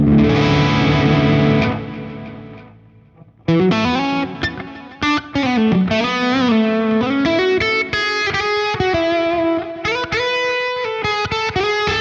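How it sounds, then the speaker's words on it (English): Electric guitar through a quad tap delay on an Axe-Fx III preset modeled on a Mesa Triple Crown amp, with a sustained chord, a brief near-silence, then clean picked melodic phrases and chords whose notes echo and trail off. "now just a little bit of the quad tap delay on there"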